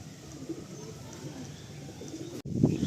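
Giribaj pigeons in a loft coo softly and continuously nearby, low murmuring calls under faint background noise, with a brief louder coo near the end.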